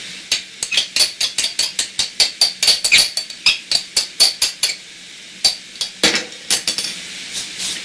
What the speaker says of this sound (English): So we'll go ahead and stir this up a bit.